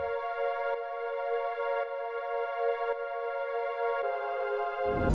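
Guitar chords layered with a tremolo soft pad preset in FL Studio, sustaining bright harmonic tones with soft repeated re-attacks about once a second and a swell near the end.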